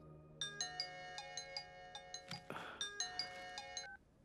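Phone ringtone playing a bright, repeating electronic chime melody with a steady rhythm of clear tones, close and moderately loud, briefly interrupted by a rustling burst midway before the melody continues.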